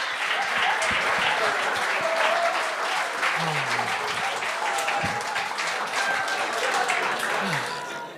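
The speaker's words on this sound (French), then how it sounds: "applaudissement" A studio audience at a televised comedy talent show applauds loudly and steadily, the dense clapping sustained throughout before easing slightly at the end, with faint voices underneath.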